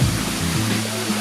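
Waterfall at Mae Ngad Dam near Chiang Mai, a steady broadband rush of falling water that holds at an even loudness with no voices throughout.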